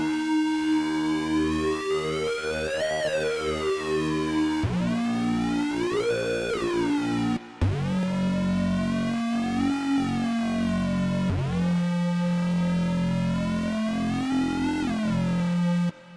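A synthesizer tone using oscillator sync sweeps up and down, its bright harmonics shifting sharply as the pitch moves, with a brief cut midway before the sweeping resumes.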